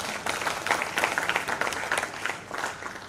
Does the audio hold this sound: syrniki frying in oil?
no